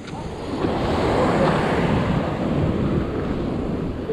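Ocean waves wash against a rocky shore, a loud, continuous roar of surf that swells in after a quiet start, with wind buffeting the microphone.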